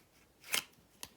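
Playing cards riffled in a peeling shuffle during a card magic trick, heard as two quick papery bursts, a louder one followed by a brief second flick, fairly close and with no talk.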